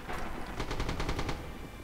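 A burst of rapid automatic gunfire in the World War II shooter Red Orchestra 2, about eight sharp shots in quick rhythm, loud and close, with no talk over it.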